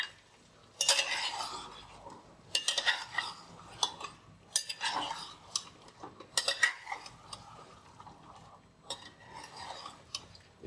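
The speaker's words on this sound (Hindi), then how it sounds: "इसे मसाले में चिकन को बढ़िया मिक्स कर लेते हैं।" Desi chicken being stirred into masala in a cooking pot, with a spoon scraping and clinking against the metal in irregular bursts at close range, separated by short pauses, and no talking.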